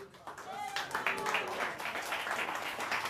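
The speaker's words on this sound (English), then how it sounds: "Keep clapping." Crowd applause at a Republican political rally, a dense steady wash of clapping from many hands that holds throughout, with voices mixed in underneath.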